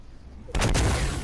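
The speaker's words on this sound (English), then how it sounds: "So we'll get old trusty guided rocket out again." A guided rocket fires in the Fortnite video game, a sudden loud whooshing blast that begins after a half second of quiet and holds steady to the end.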